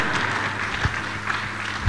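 A congregation claps steadily through a church memorial service of songs, a dense, continuous wash of applause with a few louder claps standing out.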